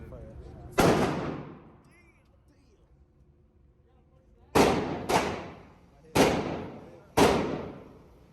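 Five loud 12 gauge shotgun blasts at a gun range, sharp booming reports with ringing decay, one early then four in quick irregular succession later, separated by a quiet stretch.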